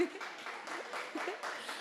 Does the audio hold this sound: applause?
yes